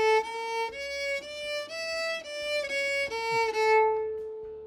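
A harmonic minor scale played on a stringed instrument's open strings, a run of sustained, bright pitched notes stepping steadily up and then back down, heard clearly and alone.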